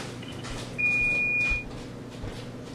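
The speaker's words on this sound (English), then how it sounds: "I hear the timer going off, which must mean that the cookies are ready" A kitchen oven timer going off while baking chocolate chip cookies: a single sustained electronic beep, moderately loud, lasting under a second over a quiet room background.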